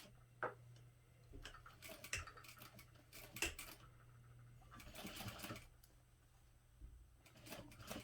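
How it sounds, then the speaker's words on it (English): A sewing machine back-stitches the front of a clutch bag in short bursts of rapid mechanical ticking and whirring, with clicks and pauses between runs, close and quiet. "Starting at the top of the front, back stitch a few stitches."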